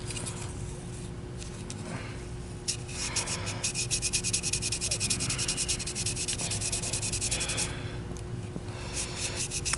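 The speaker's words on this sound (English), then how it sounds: "Yeah, just steel wool. You don't need sandpaper or anything even a cleaner." Steel wool rubbed over the power head contacts of a Miele S344 canister vacuum, producing a close, steady scratchy scrubbing in quick strokes that runs almost the whole time.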